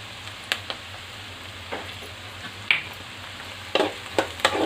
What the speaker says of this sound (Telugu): ఇప్పుడు ఉల్లిపాయ ముక్కలు వేసుకున్నాం ఇప్పుడు కరివేపాకు వేసుకున్నాం